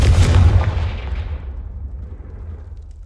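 A Confringo blasting spell in a Harry Potter video game bursts with a loud, close, booming crack, then rumbles and fades away over a few seconds, with no voices.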